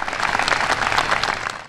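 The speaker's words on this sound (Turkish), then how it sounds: "konuşmasıyla yoğun alkış aldı" Dense applause from a large audience following the Pope's speech at the White House, a steady, loud wash of many clapping hands with no break.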